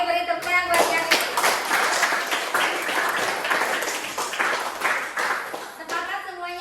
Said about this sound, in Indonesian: beri tepuk tangan buat Yanti.